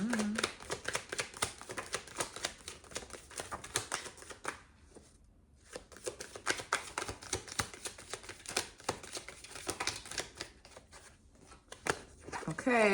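Tarot cards shuffled by hand during a spiritual reading, a fast rippling flutter of cards that runs almost continuously at close range, with a brief pause in the middle and a short bit of talking near the start.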